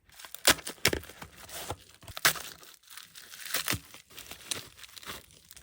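A K-pop photocard package is torn open by hand, with sharp ripping and crinkling bursts of plastic and paper in quick irregular handling, close and fairly loud, with no voices.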